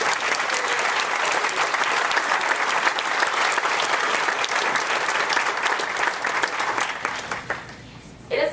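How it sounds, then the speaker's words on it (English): Sustained applause for student speakers at a spring graduation ceremony, a full crowd clapping loud and dense for several seconds before fading out near the end. "let's all give one more round of applause to our student speakers tonight"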